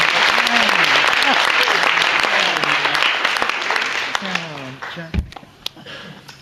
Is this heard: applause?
yes